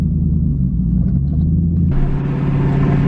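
A cammed WS6 Trans Am with aftermarket intake and headers idles on a dyno in a steady low rumble, then the engine note thickens and grows louder partway through as the revs climb on their own.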